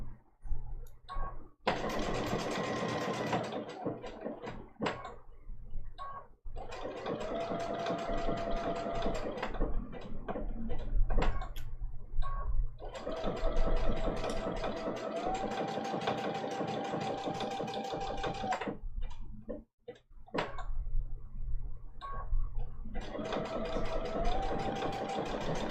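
Home sewing machine stitching a small ladybug appliqué quilt block with a short stitch, running in steady bursts of motor hum and needle chatter that stop briefly as the fabric is turned, close and fairly loud.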